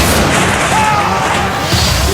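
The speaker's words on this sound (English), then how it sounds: "With a huge explosion, the captain's windscreen blows out into the sky." A loud, sustained roar as an airliner captain's windscreen blows out at about 17,300 feet, a dense broadband blast of rushing air that fills the whole clip with no clear onset.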